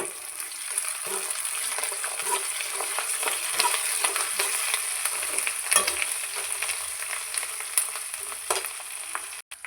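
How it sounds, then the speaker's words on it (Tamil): Onions and curry leaves frying in a pan for a Tamil chutney, a continuous close sizzle with spoon-stirring scrapes and occasional sharper crackles, alone without speech. "வெங்காயம் கலர் நல்லா மாறிடுச்சு பொன்னிறத்துக்கு வந்துடுச்சு அது கூட கறி லீஃப் சேர்த்துப்போம் கறிவேப்பிலை"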